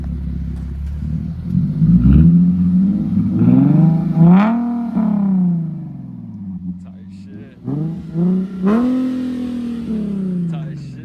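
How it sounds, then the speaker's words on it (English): A car fitted with a Tomei catback exhaust revs up close and loud in several rising and falling pulls, engine note climbing sharply then settling to idle between blips, with a voice briefly heard. "that's what the exhaust sounds like"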